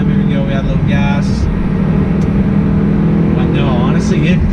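An Audi R8 downshifted into third gear at about 4,500 RPM, after a walnut-blasting intake carbon cleaning, hums steadily from inside the car under continuous low engine drone, with a driver talking over it.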